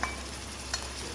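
Fresh ginger garlic paste sizzles and fries in a pan for Pakistani tawa keema, a steady, moderately quiet hiss with a brief stirring clink partway through and no talking.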